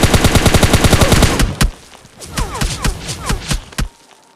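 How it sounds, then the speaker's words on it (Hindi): Rapid automatic fire from an M4 rifle in the mobile battle royale game PUBG Mobile Lite: a dense, loud burst for about a second and a half, then scattered single shots and short bursts. "जिसे मैं M4 से नॉक कर देता हूँ।"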